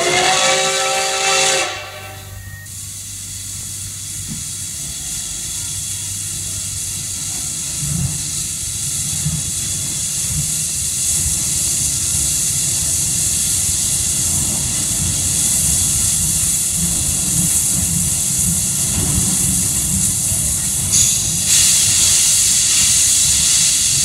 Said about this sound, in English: we have captured the full sounds of an old steam engine